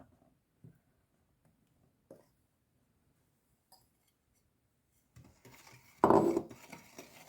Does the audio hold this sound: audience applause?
no